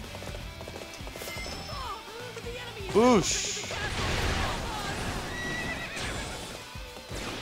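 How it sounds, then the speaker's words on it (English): A horse in the Dynasty Warriors 8 video game neighs loudly in one sharp whinny amid rapid clip-clopping hooves and battle noise, while someone talks over the game sounds. "let's go ahead and call the horse."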